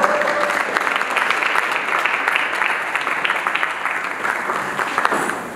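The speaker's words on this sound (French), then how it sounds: "Les applaudissements." An audience at an evening King and Queen gala applauds steadily and loudly for the whole stretch, a dense, even wash of many hands clapping with no speech over it.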